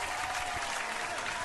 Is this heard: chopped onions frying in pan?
no